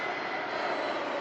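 Engine noise inside the cabin of an Air India Boeing 787-8 Dreamliner in flight, a steady broad roar that stays even and moderately quiet throughout.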